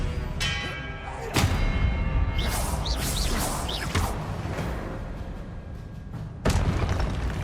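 Hogwarts Legacy game combat with the Confringo spell produces loud booming blasts and whooshes, with sharp impacts near the start and end and a swirling crash of effects in between.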